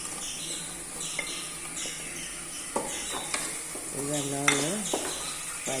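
Raisins fry with onions and spices in a pan, giving a soft continuous sizzle. Spoon stirs and scrapes clatter over it, and a brief bird-like chirp rises near the end.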